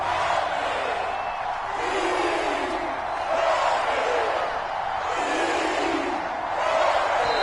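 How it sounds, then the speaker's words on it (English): Football stadium crowd before a big third down in a fourth-quarter, one-score game against the Panthers, a broad roar swelling and surging in waves throughout, loud and continuous. "the crowd getting into it as we come up on a big third down"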